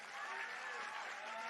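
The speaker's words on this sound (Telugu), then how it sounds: "ఇంకొద్ది గట్టి కొట్టాల చప్పట్లు" Sustained applause from a crowd at a student protest rally, a dense even clatter of many hands clapping throughout, with some voices mixed in.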